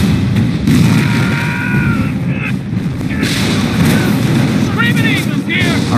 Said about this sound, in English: Enemy fucking grenade!